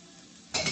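Half a head of minced garlic drops into a hot pan and starts to sauté with a sudden loud sizzle and stir, breaking a quiet moment near the end.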